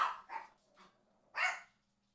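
Dogs in a kennel bark in short, sharp bursts: three quick barks followed by a louder single bark after a pause, fairly close and otherwise quiet.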